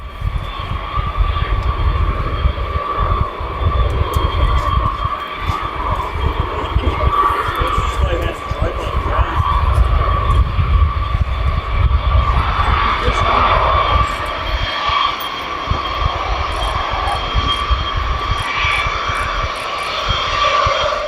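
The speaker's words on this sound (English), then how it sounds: "the pilot taxied sideways to show off the B-52's ability to do so" A B-52 bomber's jet engines drone steadily as the plane taxis on a runway, a loud, continuous whine and roar heard from nearby under narration.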